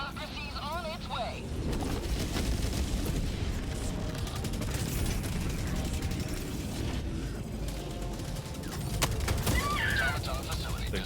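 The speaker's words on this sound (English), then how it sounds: "I'll throw a strafing run at these guys" Rapid automatic gunfire and explosive bursts from a strafing run airstrike crackle continuously in Helldivers 2, dense and loud throughout, with a player talking over the combat.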